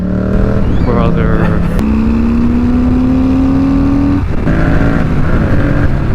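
Harley Davidson Fat Bob 114 motorcycle roaring past at close range, a loud sustained engine drone rising in pitch, with a voice heard over it.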